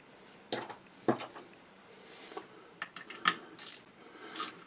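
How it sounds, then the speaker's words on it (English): A Craftsman ratcheting angled screwdriver works on the hook assembly of a Singer 66 sewing machine, giving a handful of sparse, sharp clicks and light metallic ticks at close range with quiet gaps between them. "Using a little ratcheting angled screwdriver. This is a Craftsman one."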